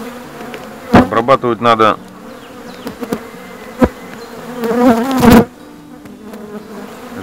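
Honeybees buzz around hive frames while frames are lifted and treated. A steady hum runs beneath close, sharp bursts of buzzing as bees fly past the microphone, and someone speaks briefly.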